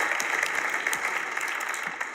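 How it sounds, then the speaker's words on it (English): Audience applause fills a room after a leadership talk, a steady, dense patter of many hands clapping at moderate volume without a break. "Give yourselves a round of applause"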